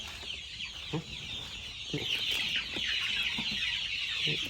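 Chickens cluck in short, soft bursts, fairly close, over a steady background of insect or bird chatter. The clucks are spaced roughly a second apart.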